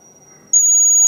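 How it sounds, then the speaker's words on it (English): A homemade magnetic pole detector's buzzer starts abruptly after a half-second of near-quiet, then holds a loud, piercing, steady electronic tone. "the buzzer is on"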